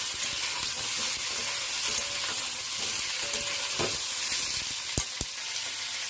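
Paneer cubes frying in oil in a pan for a pepper paneer dish, giving a continuous close sizzle with a few sharp clicks of utensil contact near the end.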